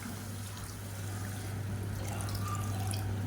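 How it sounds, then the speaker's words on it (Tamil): Heated water poured into soaked rice while making biryani, a soft steady splashing and trickling under a constant low hum, close by and moderately quiet throughout. "நான் ஒன்றரை டம்ளர் தண்ணி எடுத்து நல்லா சூடு பண்ணியிருக்கேன் அந்த தண்ணியை சேர்த்துக்கலாம்"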